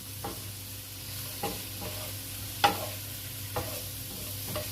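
Paella ingredients are stirred in a frying pan: a soft, constant sizzle punctuated by about five spaced scrapes of a utensil, one sharper clack near the middle.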